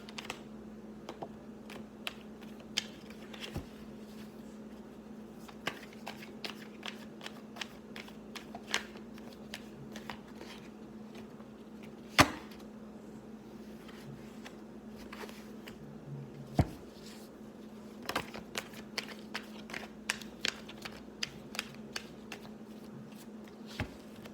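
Repeated sharp clicks and riffles of tarot cards being shuffled by hand, close and fairly quiet, in irregular bursts over a low steady hum.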